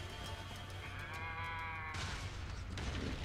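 Strange drawn-out lowing calls like cattle, from robot geckos in the video game Metal Gear Rising, sound over a low rumbling backdrop, shifting into a harsher, noisier tone partway through.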